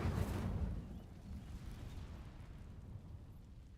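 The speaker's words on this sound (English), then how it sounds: "These dry vines are one spark away from becoming kindling. Incendio." A fire spell ignites dry vines in Hogwarts Legacy: a loud whooshing burst of flame at the start, settling into a steady low crackling roar that fades slightly over several seconds, with no talking.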